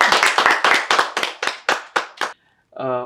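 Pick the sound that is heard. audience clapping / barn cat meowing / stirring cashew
audience clapping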